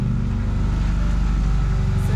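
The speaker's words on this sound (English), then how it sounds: "The engine is running." A car engine idles steadily nearby with the air conditioning on max, a low constant rumble with a faint hum and no speech over it.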